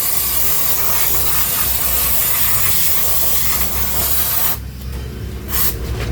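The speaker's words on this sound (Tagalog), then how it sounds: "pwede rin natin itong spray ng brake cleaner" Brake cleaner sprayed onto the front brake caliper of a Toyota Innova 2.8, a loud continuous aerosol hiss with slight variations that cuts off near the end, followed by quiet and a brief short spurt.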